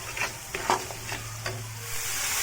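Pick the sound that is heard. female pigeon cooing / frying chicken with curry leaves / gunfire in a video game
frying chicken with curry leaves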